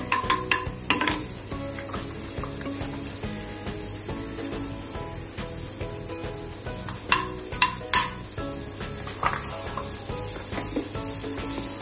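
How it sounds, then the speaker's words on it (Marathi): A spoonful of butter sizzling in a pan for tempering, a continuous close hiss and crackle with occasional spoon clinks and scrapes, no talking. "इथे मी 1 चमचा बटर टाकले।"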